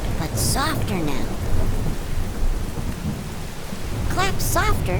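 A group claps softly to imitate a rainstorm, producing a steady hiss of rain-like patter across the whole stretch, with brief speech at the beginning and end.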